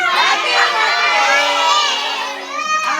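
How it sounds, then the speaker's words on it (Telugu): A family gathered indoors for a birthday celebration shouts and cheers loudly, with many overlapping voices, including children, keeping up a continuous, close, boisterous din throughout. "ఇక్కడ మా వాళ్ళు అరిసిన అరుపులకి టాప్ లేచిపోయింది"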